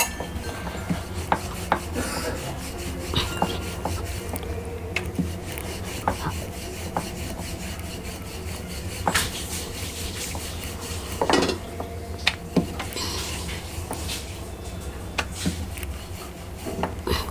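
A rolling pin works karanji dough sheets flat on a board, making soft repeated rubbing and rolling strokes with occasional light knocks and clicks. The sound is close and even, with no speech.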